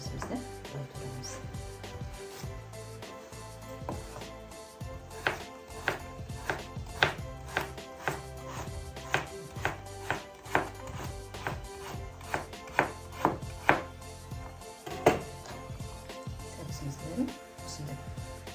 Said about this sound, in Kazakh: Сабызымызды былай турамыз.